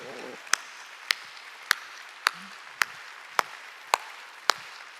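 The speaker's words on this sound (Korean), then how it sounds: "박수 치라고" A church congregation at a Wednesday service claps in unison, eight sharp, evenly spaced hand claps about half a second apart, fairly close and crisp, with brief faint murmurs between the beats.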